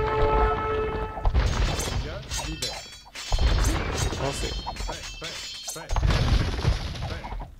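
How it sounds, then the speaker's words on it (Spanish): A burst of loud crashing blasts in Age of Empires II, several petard explosions in quick succession, with a voice calling out briefly over them. "Vamos, petardos. ¡Exploten!"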